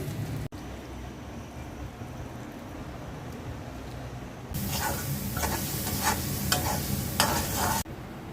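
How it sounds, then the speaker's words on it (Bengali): Blended tomato poured into hot oil left from frying tilapia in a home kitchen; after a quiet, low stretch, a loud close sizzle bursts in and crackles steadily, then cuts off sharply. "টমেটোর ব্লেন্ডটা আমি এখন মাছ ভাজা তেলের মধ্যে দিয়ে দিচ্ছি।"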